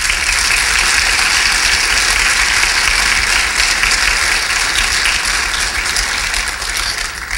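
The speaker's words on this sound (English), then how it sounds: "So I'd like to actually ask for a round of applause for the organisers." A conference audience at a lightning talks session applauds the organisers in sustained, dense clapping that stays loud and even for several seconds before easing slightly at the end.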